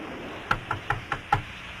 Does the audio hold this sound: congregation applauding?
no